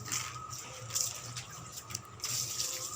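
Water splashing and pouring over a courtyard floor as it is washed and cleaned, a steady gushing wash with brief louder splashes, fairly close and moderately quiet.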